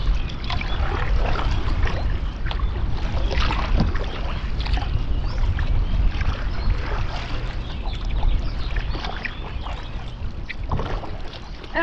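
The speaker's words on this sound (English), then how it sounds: "I'm paddling straight across and I'm cutting" A canoe paddled across a lake, with steady close-up water sloshing and paddle strokes dipping and dragging continuously, and wind rumble underneath.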